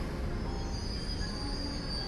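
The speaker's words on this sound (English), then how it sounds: "The other school train." A school train rolls past in the Trails of Cold Steel IV opening scene, a steady, loud rumble of wheels on rails with a thin, sustained metallic squeal running over it throughout.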